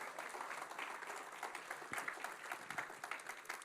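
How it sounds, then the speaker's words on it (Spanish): A church congregation applauds in praise, a dense and steady wash of many hands clapping that carries on throughout at moderate distance. "Vamos, aplaudan al Señor en alabanza."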